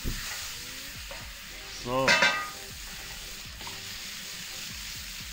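Stir-fry ingredients for an Asian pan dish hit a hot lava pan with a steady close sizzle and frying hiss, a louder burst partway through, while someone speaks briefly.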